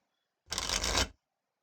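Deck shuffling in a digital card game, a single brief burst of rapid papery riffling about half a second long, close and crisp with silence around it.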